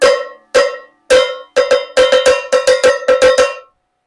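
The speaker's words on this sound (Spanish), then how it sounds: "Este es el sonido de otro. Se dan cuenta, es más grave." A deep-toned, lower-pitched percussion cowbell hit repeatedly with a stick, spaced single clanks giving way to a faster cluster of ringing metallic strikes, loud and close.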